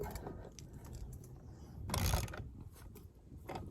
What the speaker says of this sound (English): I'll get the wrench and we'll run those down.